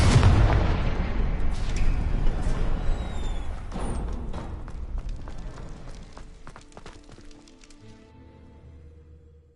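Spell blasts in Hogwarts Legacy on PS4: a dense run of loud booming, cracking explosions packed together at the start, thinning into scattered sharper cracks and a fading rumble, with no talking.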